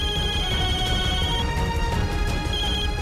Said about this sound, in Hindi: देख, फिर से फोन कर रहा है।